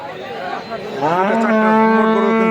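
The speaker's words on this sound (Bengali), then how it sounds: "গরু কিনা হয়ে গেছে" Cattle at a market for the Qurbani sacrifice low and moo, a long drawn-out bellow rising clearly in the second half over a murmur of crowd chatter and background noise.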